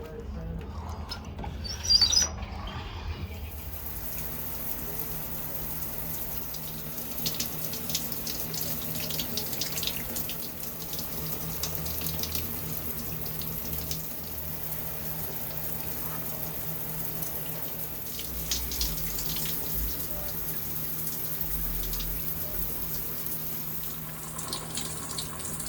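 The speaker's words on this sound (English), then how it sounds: "hop my tail in the shower" Shower water runs steadily as a continuous hiss, fairly close and even in level for the whole stretch, with a few faint chirps and brief clatters over it.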